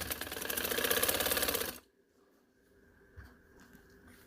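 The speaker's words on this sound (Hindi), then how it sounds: "अच्छा ये देखें, ऊपर सिलाई लगा रही हूँ डबल।" Sewing machine running a double line of topstitching on a patchwork suit, a rapid close-up whirring rattle for about two seconds before it stops and the room falls nearly quiet.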